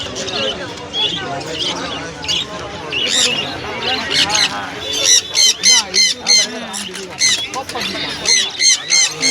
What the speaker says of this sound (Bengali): এটা রেড কালার, রেনবো লরি